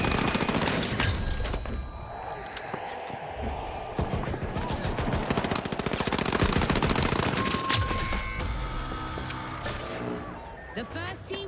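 Machine guns rattle in rapid, sustained bursts in a shooter game, loud and close with mechanical clatter between the volleys.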